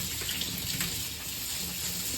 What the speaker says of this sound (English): I'm going to wash the brush quickly